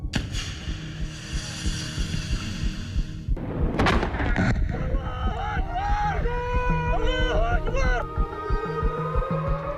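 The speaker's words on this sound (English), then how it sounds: "Explosion rockets." A sudden broadband boom from rocket explosions rolls out during the early-morning October 7th attack, heard from a boat at sea over steady engine and water rumble, followed by voices talking.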